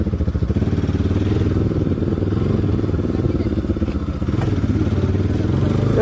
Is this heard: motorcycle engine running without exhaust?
yes